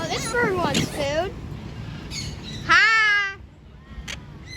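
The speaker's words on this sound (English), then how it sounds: "Oh, this bird wants food." A bird squawks loudly and repeatedly at close range while being hand-fed corn, its harsh, rising calls coming in bursts between stretches of quieter background noise.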